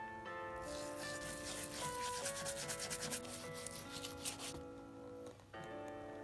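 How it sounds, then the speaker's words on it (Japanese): Leather shoe heel being polished with emulsified cream, steady close brushing and rubbing strokes in a rhythmic pattern, with soft background music underneath. "ちょっとかかとの部分に、少しクリームが足りないようだったので、もう一回、クリームをつけて、磨いていきます。"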